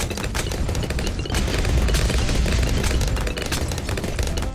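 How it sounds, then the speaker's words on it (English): Dense video game gunfire and explosions from Bloons Tower Defense 6 roar continuously, loud and close, with rapid bursts layered over low rumbling booms. "Just the explosions."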